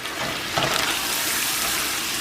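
Home canned spaghetti sauce being stirred into a hot pan, giving a continuous wet sizzle and hiss that swells slightly after the first half second and then holds steady.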